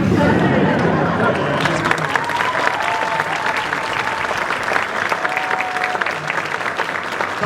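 A school concert audience claps for the high school stage crew, dense sustained applause filling the room with some chatter mixed in.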